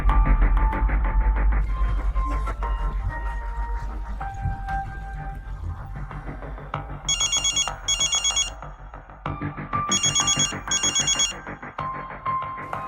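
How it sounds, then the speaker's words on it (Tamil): A telephone rings for an incoming call, two pairs of bright electronic ring bursts over continuous background music. "தீபக் சொன்னதை கேட்டதும் ஆதவன் உடனே கேசவனுக்கு கால் செய்தார்."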